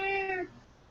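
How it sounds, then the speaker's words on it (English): A domestic cat gives a single short, clear meow close by, lasting under half a second and then fading into quiet room noise. "I hear your cat."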